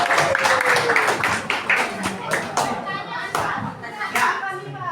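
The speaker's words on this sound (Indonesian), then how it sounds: "berikan aplaus dulu" An audience claps after a presentation in a classroom-style session, a spell of scattered, uneven hand claps with children's voices chattering over them.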